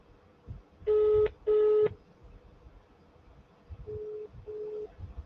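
A phone line sounds two loud, steady electronic tone bursts, then two softer, lower repeated tones, the pattern of a call being placed, heard over faint background hiss.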